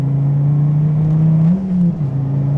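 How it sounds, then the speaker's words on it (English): SRT Dodge Viper driven hard with wheels spinning: a loud, steady engine drone rising slightly in pitch near the end, close and continuous with no talk. "Wow, you can easily spin the wheels"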